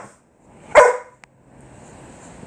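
A pet dog named Lexi lets out a single sharp bark in a quiet room, close and loud, followed by faint low background noise.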